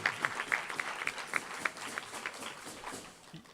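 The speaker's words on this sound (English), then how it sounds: "Do I hear some clapping there?" Clapping from an audience at a Rotary Club of Tucson meeting, a modest, uneven patter of hands at moderate distance that thins toward the end.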